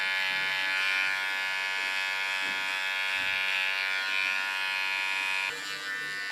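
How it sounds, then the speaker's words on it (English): A small electric hair clipper buzzes steadily and close up while edging a line in side hair during a mohawk cut, its high whine shifting slightly in pitch as it moves through the hair. "Clean the line again with a small clipper."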